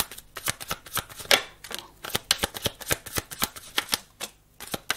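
A deck of cards being shuffled for a card reading, a quick run of sharp, close riffling snaps and flicks at an irregular pace, with no talk.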